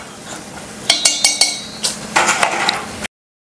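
A knife stirring dal in a pot during Karthigai Deepam festival cooking, making a run of sharp metallic clinks and scrapes close by, a few seconds long before cutting to silence.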